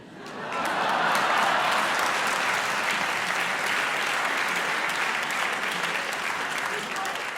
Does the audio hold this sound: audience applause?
yes